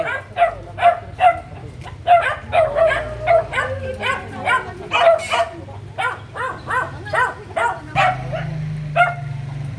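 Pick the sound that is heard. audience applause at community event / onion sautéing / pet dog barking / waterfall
pet dog barking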